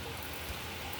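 Steady rain falling, a faint continuous hiss of drops on surfaces with no other sounds.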